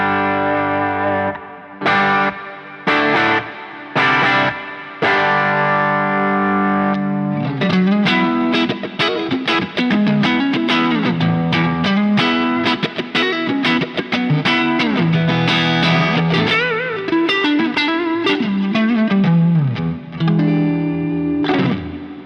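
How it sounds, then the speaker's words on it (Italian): Electric guitar on the bridge pickup through a Quad Cortex, with a slightly distorted edge tone: a few sparse chord stabs, then a busy strummed and picked rock-pop riff, loud and close, with no voices. "se switcho e vado sul pick up al ponte sentirete un po' quasi distorto"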